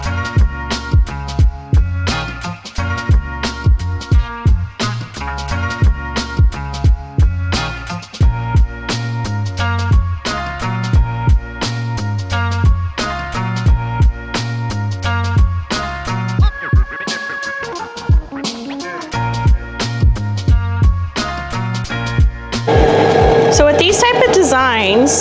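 An embroidery machine stitches a design onto a crew neck sweatshirt, its needle beating in a fast steady rhythm with whirring motor tones, loud and close, joined by a faint shift in sound near the end.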